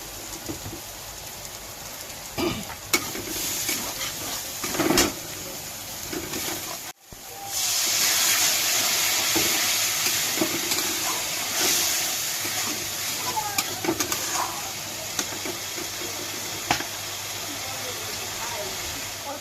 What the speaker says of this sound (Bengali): দিয়ে ভালো করে মশলাটা ভেজে নেবো লবণ দিয়ে দিচ্ছি